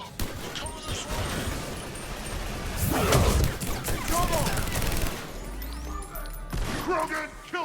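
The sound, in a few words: gunfire in Mass Effect 3 video game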